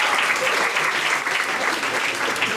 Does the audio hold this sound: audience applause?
yes